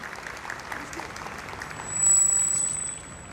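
Applause at an outdoor school annual sports meet for sports prize winners, faint scattered clapping that swells into a louder burst near the middle before fading, heard from a distance.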